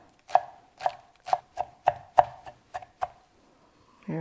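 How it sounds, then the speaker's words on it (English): A knife chopping fresh herbs into little pieces on a cutting board, about nine crisp, close taps in an uneven rhythm, followed by a brief scrape. "we're just going to cut that into little pieces."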